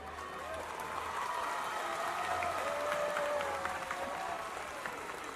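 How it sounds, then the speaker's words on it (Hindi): An audience at the CWC 41st Annual Day Function claps and cheers for Ajay Kaul in a loud, continuous wash of crowd noise, with music or a voice faintly running through it. "तालियों से बोलेंगे अजय सर के बारे में?"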